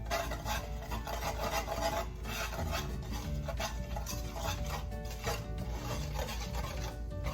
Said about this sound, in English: she did tell me that I need to stir it up